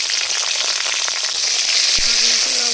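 Whole cumin, dried chillies, garam masala and green chillies sizzle steadily in hot oil for a khichdi, a loud continuous frying hiss with a few sharp crackles and a brief low tone near the end.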